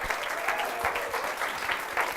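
A live audience at a community story event applauds to welcome a speaker, dense steady clapping filling the room, fairly close and loud throughout.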